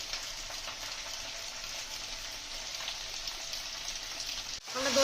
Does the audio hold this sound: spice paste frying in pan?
yes